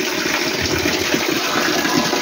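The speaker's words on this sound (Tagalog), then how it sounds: "Kita mo naman, lakas ng tubig." Strong, steady rush of water pouring over a small waterfall into mini pools, a loud continuous churning roar heard close by with no pauses.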